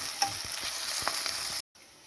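Onions frying and being stirred in a pan for a tomato-free biryani, a steady close sizzle with soft scraping stirs, cutting out abruptly near the end before resuming briefly.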